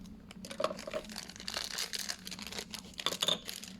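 Plastic packaging around a One Piece collectible figure being cut open, close and quiet crinkling and crackling with small snips and rustles in irregular bursts.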